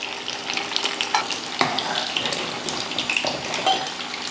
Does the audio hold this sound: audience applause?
no